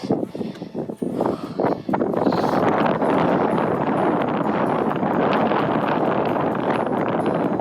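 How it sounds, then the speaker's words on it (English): Strong wind roars steadily against the microphone on an Australian beach near Esperance, loud and continuous, with a few brief rustles at the start before the gusts take over. "It's very windy."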